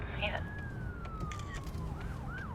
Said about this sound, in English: I can hear the same ambulance down the phone as I can outside this place